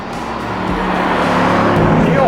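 Mercedes-AMG GT R on a race track, its engine roaring loudly under hard acceleration, a steady, rising, high-revving drone with the pitch climbing toward the end.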